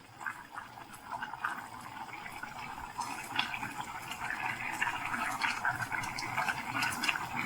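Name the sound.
pouring beaten egg over cooking ramen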